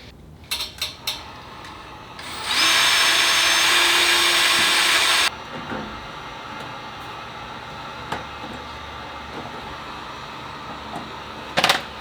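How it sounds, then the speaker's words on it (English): A loud, high-pitched drill whines steadily for a few seconds as its bit marks aluminum, preceded and followed by light clicks and handling noises in a quiet room. "So I'm actually gonna mark the next few just with the drill bit right away."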